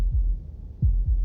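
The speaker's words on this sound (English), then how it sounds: "That was the sound of a heartbeat." A low, thudding heartbeat sound effect from the video game Slay the Princess, with three soft deep pulses spread unevenly across a quiet background hum, no talking.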